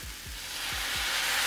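Broth poured into a pan of hot sizzling mushrooms and kale, a steady close frying hiss that swells as the liquid hits, with a few low bubbling pops and no talk.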